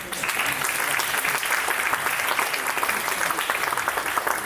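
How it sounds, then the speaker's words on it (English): A concert audience at a Thirukkural music event gives a big, dense round of applause to welcome a guest of honor to the stage, loud and continuous throughout. "Please welcome him with a big round of applause"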